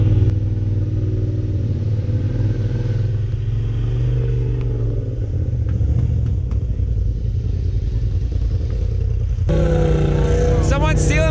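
Polaris RZR side-by-side engine on a muddy Georgia clay trail ride, a continuous loud rumbling drone that shifts pitch as it revs, with a sharper burst near the end.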